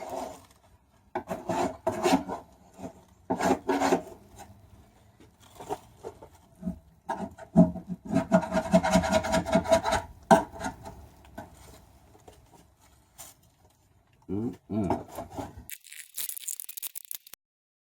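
Repeated rasping scrapes in uneven bursts as a blade scrapes off paint, with short pauses between strokes and a brief hiss near the end.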